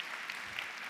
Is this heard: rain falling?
no